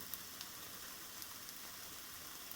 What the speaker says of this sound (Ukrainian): наші млинці вже досмажуються